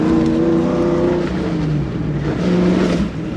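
A Toyota Surf with a 1UZ V8 engine drives over gravel, a loud continuous engine drone with shifting pitch and a constant crunchy road roar, steady throughout with no talk.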